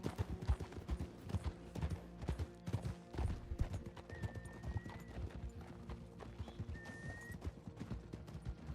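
Horse hooves clip-clop steadily in a video game, a dense, continuous trotting rhythm up close, with a couple of brief high tonal whinny-like notes over it.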